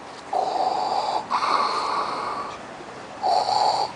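A voice imitates Darth Vader's breathing during a comic stage skit, giving three raspy, wheezing breaths, each a hoarse hiss close to the microphone, with short gaps between them.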